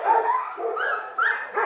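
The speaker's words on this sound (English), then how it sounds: "There's 200 dogs in this room, and so the way it's designed, the noise level is very high." Dogs bark and yip in a kennel room holding about 200 dogs at an animal shelter, with high ceilings; a few close barks and whimpers come in short bursts, moderately loud with no talking.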